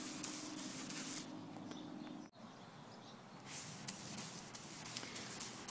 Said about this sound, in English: as you move the sandpaper across the headlamp, it's going to make a little foam